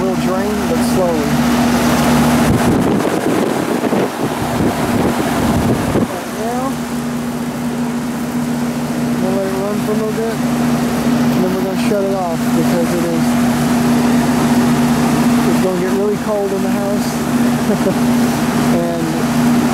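A Goodman / Frigidaire Arctic King window air conditioner runs in cool mode with a loud, steady mechanical hum and fan drone, while a voice is heard faintly at times over the noise.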